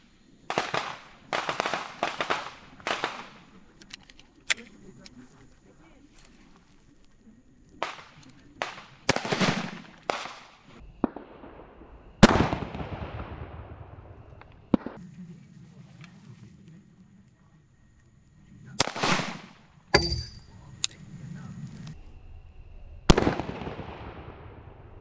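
A Glock 20 pistol fires hot 10 mm loads at body armor outdoors. The sharp, loud reports come in irregular bursts and single shots, each with a brief echoing tail, separated by quiet gaps.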